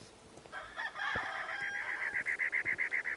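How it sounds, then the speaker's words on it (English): Chickens near a house with a garden: a rooster crows and birds cluck, rising into a loud, rhythmic run of repeated squawks toward the end, heard alone without talk. "Oh, they've got chickens."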